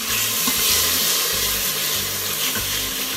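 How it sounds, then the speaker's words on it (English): Garlic sizzles and crackles steadily in oil in an Instant Pot on sauté, a loud close frying hiss with occasional stirring and no talk. "you don't want to burn your garlic, so just saute it"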